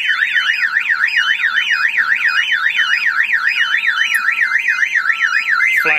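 A loud Dodge car alarm wails in a fast, rising-and-falling electronic siren pattern, steady and continuous, cutting off abruptly near the end.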